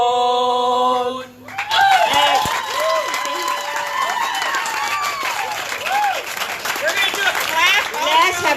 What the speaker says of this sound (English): Let's have a big clap for Ricardo.